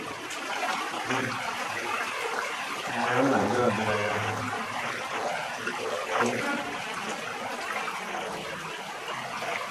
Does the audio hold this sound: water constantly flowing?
yes